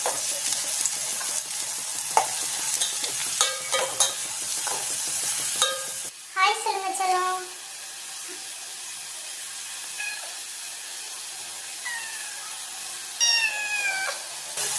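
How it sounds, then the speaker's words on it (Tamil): Chopped onions sautéing in hot oil with spices for a Hyderabad green chicken gravy, giving a steady sizzle with occasional stirring clinks, while a cat meows several times nearby as the frying quietens. "நம்ம கட் பண்ணி வச்ச ஆனியன் சேர்த்துக்கலாம் இது கொஞ்சம் லைட்டாக ப்ரௌன் ஆகிற வரைக்கும் இதை வதக்கி எடுத்துக்கோம்"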